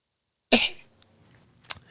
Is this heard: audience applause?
no